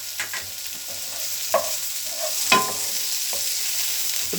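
Vegetables and sweet corn fry in a pan with a steady sizzle, broken by several distinct scraping stirs of a utensil against the pan, close and alone.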